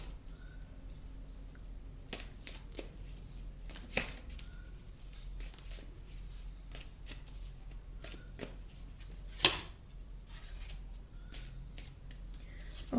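Tarot cards shuffled and drawn by hand in a quiet room, a run of soft riffling and sliding flicks with a few sharper card snaps, close and fairly faint, no talking.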